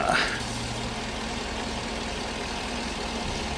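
A truck engine idles steadily after being started during a transmission fluid check, a low continuous rumble with a brief louder burst at the very start, then an even drone throughout.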